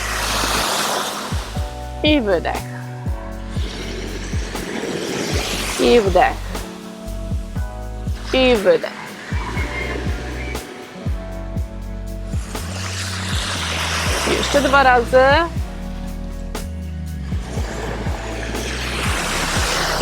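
Ocean waves surge and recede in slow, repeating swells, a soft continuous wash beneath a calm voice talking throughout.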